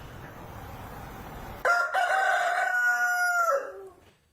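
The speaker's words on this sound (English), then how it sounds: "I need this. I need this chicken." A rooster crows once, loud and close, with a long rising-then-falling call that holds steady for about two seconds before trailing off, following a stretch of quiet background hiss.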